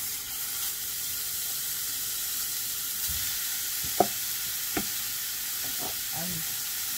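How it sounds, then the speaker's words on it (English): Minced meat frying in a hot pan for a Guyanese-style shepherd's pie, a steady broadband sizzle running throughout with a few soft clicks of a utensil, close and fairly quiet, with no talking. "so now that this pan is on the fire, I'm gonna add the mince."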